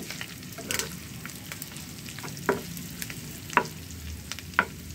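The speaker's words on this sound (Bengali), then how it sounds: "বারবার নেড়ে চেড়ে দিতে হবে এগুলো, যাতে মুচমুচে হয়ে যায়" Food frying crisp over medium heat while being stirred again and again, a constant crackling sizzle with several sharp scrapes and knocks of the utensil against the pan, close up and without talk.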